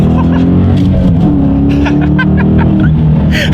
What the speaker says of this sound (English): let me do a quick little acceleration for you guys